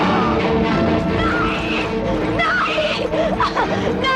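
In a Hindi film fight scene, men beat a farmer with a loud, dense run of smashing, thudding blows and crashes, continuous throughout with voices mixed in.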